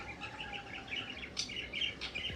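Several pet birds chirp and squabble close by, a busy run of quick, bright tweets and sharp calls overlapping one another with no pauses and no talk.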